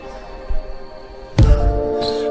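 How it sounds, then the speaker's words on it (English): A basketball bounce in a song gives a single sharp, close thud that blends into a deep bass swell, with sustained musical tones around it. "I heard a bounce, but then it turned into more of a bass effect."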